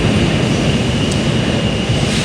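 A Washington Metro train runs through a tunnel on the Silver Line, giving a loud, steady rumble and roar that fills the space with no pause, and no voices are heard.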